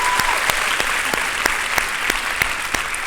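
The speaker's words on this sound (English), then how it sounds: "let's do a round of applause for that" Audience applause at a Turning Point USA young women's leadership summit, a dense room-filling roar of clapping with distinct sharper claps punctuating it, loud and sustained for the whole stretch.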